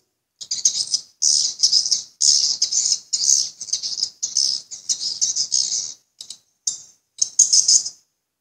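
Swiftlet calling sound from a Piro MW 88 amplifier, heard as loud bursts of high, rattling chirps in regular on-off pulses about every half second to second, briefly breaking up near the end, with no voices.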